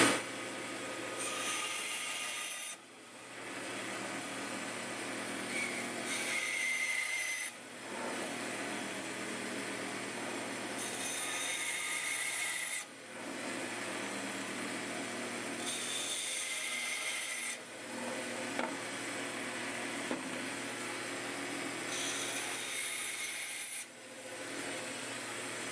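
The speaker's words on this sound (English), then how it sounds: "We're going to do this on the bandsaw." Bandsaw cutting wood for a box, a continuous close whining and rasping cut that is interrupted by several short dips as the blade moves between passes, with no talking.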